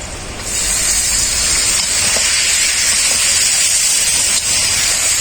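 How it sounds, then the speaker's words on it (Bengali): Water splashed into a pan of frying ground spice masala with cumin, coriander, turmeric and pepper, setting off a sudden loud hissing burst of steam that holds steady as a continuous sizzle. "মশলাটাকে কষানোর জন্য অল্প করে একটু জল দিয়ে দেব"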